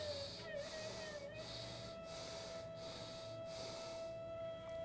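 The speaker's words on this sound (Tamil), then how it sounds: "முதல்ல 3 முறை மூச்சை உள்ளெழுத்து மூச்சு வெளியே விடுங்க." Slow, deep yoga breaths drawn in and out, six regular airy pulses about one per second, close and soft over a faint steady tone.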